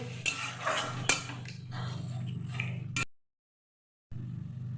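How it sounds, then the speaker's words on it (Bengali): Egg being stirred into prawn and chicken in a pan for Hakka chow mein, with clinking and scraping of utensil on metal over a steady low hum, cutting off briefly to silence before the hum returns. "এবার আমি খুব ভালো করে নাড়াবো যাতে ডিমটাও স্ক্রাম্বল হয়ে যায়, প্রন চিকেন।"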